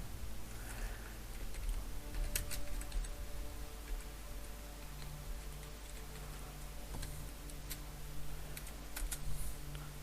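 Someone types a search on a computer keyboard, a quiet scatter of light key clicks in irregular bursts over a low steady hum, with no talking.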